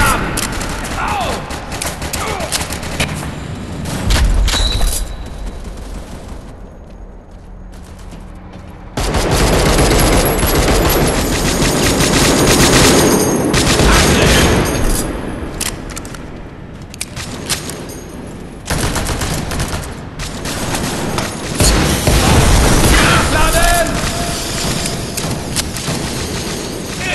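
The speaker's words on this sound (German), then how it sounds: "Ich werfe eine Handgranate!" Combat in the World War Heroes video game, with loud grenade blasts and dense bursts of rifle and machine-gun fire, close and continuous for nearly half a minute, with a few shouted game voice lines mixed in.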